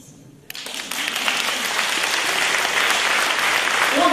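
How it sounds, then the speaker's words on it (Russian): Audience at a presentation in Donetsk bursts into applause after near silence, the clapping swelling quickly into a dense, steady, loud patter that holds to the end. "Аплодисменты."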